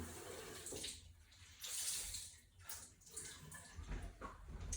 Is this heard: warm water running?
yes